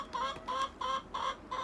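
Chickens in a mobile winter chicken house, a 10 by 20 greenhouse-like shelter, cluck in a steady series of five close, moderately loud calls about a third of a second apart, with no talking.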